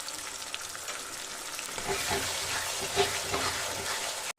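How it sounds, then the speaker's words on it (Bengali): Poppy seed, white mustard and green chili paste sizzling and frying in a pan, steady broadband hiss with occasional stirring scrapes and pops, ending abruptly. "এবার আমি এটার মধ্যে দিয়ে দিচ্ছি দিয়ে ভালো করে আমি কষিয়ে নেব"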